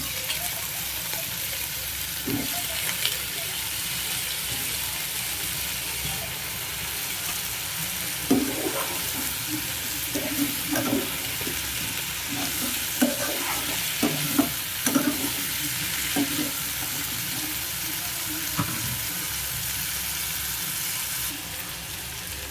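Onion and drumstick pieces frying in hot oil as they are stirred, a continuous hiss punctuated by scattered spoon scrapes and clinks against the pan, close and without voices throughout.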